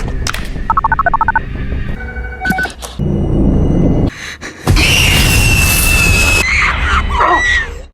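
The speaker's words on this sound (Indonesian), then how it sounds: "nada dering itu memberitahu si penyusup tentang lokasi persembunyian Lia" In a film scene about a kidnapped girl hiding from an intruder, a phone ringtone trills in a quick electronic pattern near the start. Loud dramatic music, booming hits and a scream follow.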